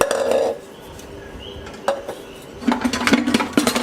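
Cups, pans, bowls and lids handled and set down close by, with a clink near the start, a lone knock, then a busy run of clattering and scraping toward the end.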